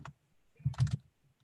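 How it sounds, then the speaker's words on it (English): A few quick keystrokes clatter on a computer keyboard: one lone click, then a short close burst of taps, quiet and with no talk. "I'm typing the same thing."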